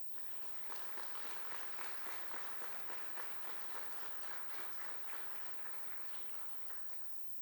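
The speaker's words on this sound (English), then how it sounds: "Round of applause for your families." Sustained applause from an audience at a university induction ceremony, steady and dense clapping throughout, moderately loud, with no speech over it.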